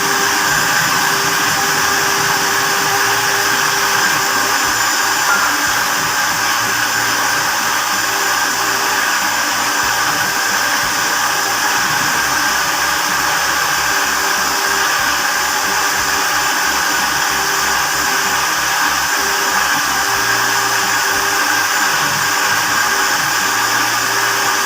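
A blender grinding dates for a date shake, a loud, continuous high whirring motor with a steady churning rumble underneath, unbroken for the whole stretch and with no voices.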